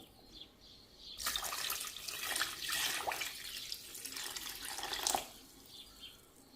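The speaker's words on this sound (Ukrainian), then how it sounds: "Тепер заливаю їх водою. Студену воду заливаю." Cold water poured into a pot over cabbage rolls stuffed with a Transcarpathian corn grits filling, a steady splashing stream in bursts over a few seconds, close and alone.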